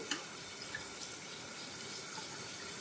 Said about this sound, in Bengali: মাংসটা ভালো করে ধুয়ে নিচ্ছি, গরম জলে ধুচ্ছি।